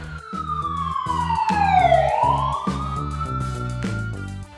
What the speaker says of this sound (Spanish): Fire truck, camión de bomberos.